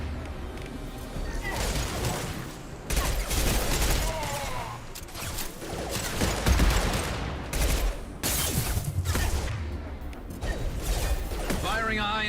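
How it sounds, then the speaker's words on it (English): Heavy gunfire in Mass Effect 2 Legendary Edition combat: repeated loud blasts and crashing impacts over a dense, busy din, with voices talking throughout. "Firing a high-impact shot."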